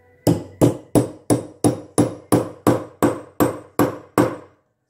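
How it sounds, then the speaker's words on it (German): Twelve sharp hammer blows in a steady rhythm drive a metal snap fastener into leather on a hard, smooth surface, each strike close and loud with a short ringing decay and no talking. "Und hauen so lang, bis metallisch klingt."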